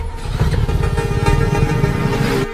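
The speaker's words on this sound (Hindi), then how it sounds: "अरे इंजन में से बहुत आवाज आ रही है" A motorcycle engine runs noisily at idle, a loud, steady, rough chugging throb held close for a couple of seconds before cutting off.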